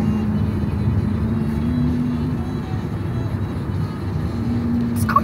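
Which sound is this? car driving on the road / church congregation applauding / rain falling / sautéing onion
car driving on the road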